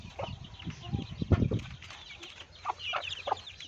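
Young chicks clucking and cheeping in short bursts close by at a farm, with light scuffling and movement as they play.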